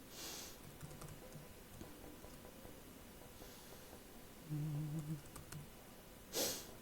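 A program being typed on a computer keyboard: faint, close, irregular keystrokes spread across several seconds over background hiss, with a brief low hum midway and a sharper click near the end.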